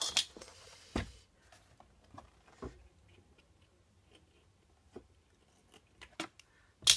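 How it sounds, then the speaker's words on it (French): Scissors snipping paper during a scrapbooking project organizer craft, heard as a few sharp, close clicks and cuts spaced irregularly across quiet moments, with no talk. "Ah, pourquoi ils veulent pas couper de ce sens-là, mes ciseaux?"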